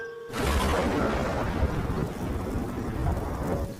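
Heavy, steady rain pours down with a deep rumble of thunder rolling underneath, loud and continuous from start to finish.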